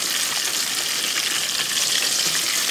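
Ladyfish frying in a pan, a steady dense sizzle and crackle of hot oil throughout, close and fairly loud with no talking.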